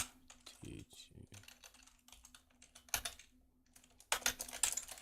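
Command being typed on a computer keyboard, close and crisp: scattered key clicks in quick irregular runs, pausing briefly before a denser burst at the end, with a faint voice in the background.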